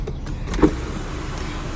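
Electric motor of the dual sunroof in a 2021 Kia Carnival GLS+ hums quietly inside the cabin, a brief soft mechanical whir with a small bump partway through.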